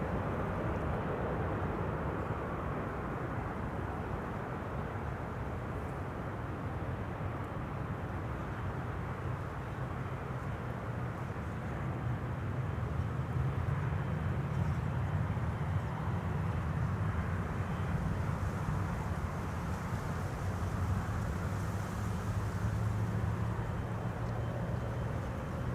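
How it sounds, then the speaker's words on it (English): A GE90 jet engine starting up on a widebody cargo jet at Amsterdam Schiphol airport: a distant, steady low roar and rumble that slowly swells and deepens in the second half, continuous and without voices. "That's the second GE90 being started."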